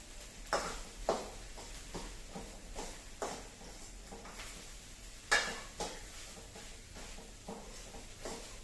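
Food is stirred and tossed in a wok with a spatula, giving a string of close scraping and clacking hits at an uneven rhythm over a faint sizzle, with one sharper knock partway through.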